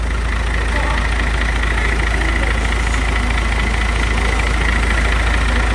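An eight-wheel truck with a Victor-style engine note idles loudly and steadily up close, a dense low rumble that stays constant throughout with no voices.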